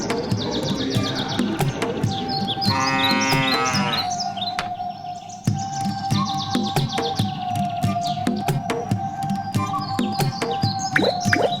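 Cartoon cow mooing in a pasture scene from an animated children's folk tale, a drawn-out moo standing out over a busy mix of chirping birds and background music.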